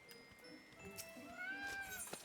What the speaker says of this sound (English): Look, it's a kitty cat.